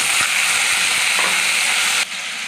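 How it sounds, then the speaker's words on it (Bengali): Ginger, garlic, onion and tomato paste hits hot frying oil with a loud, steady sizzle and bubbling hiss that carries on unbroken before dropping slightly near the end. "ওই ভাজার তেলের মধ্যেই আমি আদা, রসুন, পেঁয়াজ, টমেটোর পেস্ট বানিয়েছিলাম, এটা দিয়ে দেবো।"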